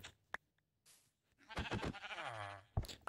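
A goat in the Minecraft video game bleats with a long, wavering, nasal cry near the end, after a few brief clicks and soft game sounds; no one speaks.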